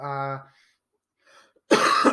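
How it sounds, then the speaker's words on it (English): A harsh, noisy cough bursts out near the end, loud and close, following a stretch of speech and a quiet pause. "sorry, I've got a bit of a cough"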